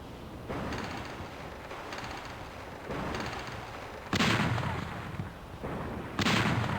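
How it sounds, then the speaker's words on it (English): Ship cannons firing in the video game Battle Navigation: a series of heavy booming blasts over a constant noisy background, with the loudest shots landing near the end. "we're gonna just let our cannons loose"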